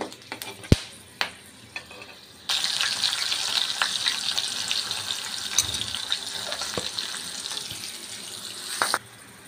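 Garam masala frying with onions in a pan for an egg korma, a steady sizzle starting after a few seconds of light clinks and running close and continuous to near the end.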